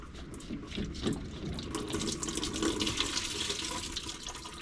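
Diesel fuel trickles and splashes steadily from the drained fuel filter of a 2017 Duramax with dual tanks, a continuous close liquid pour with no talking.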